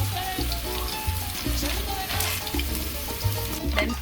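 Garlic sizzling in a hot pan while cooking arroz con pollo, a steady close crackle broken by rhythmic scraping of a spoon stirring it around.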